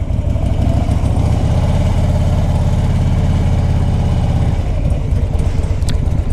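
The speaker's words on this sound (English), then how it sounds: "It's a Harley Davidson Ultra Classic." A 2004 Harley Davidson Ultra Classic motorcycle idles up close with a loud, loping low rumble of pulsing beats that cuts off near the end, leaving faint outdoor background.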